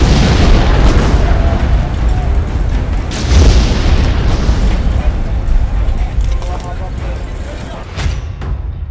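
Heavy bombing in the Gaza Strip produces deep, rumbling booms and blasts that roll on continuously, loud and close, with a narrator's voice speaking over them.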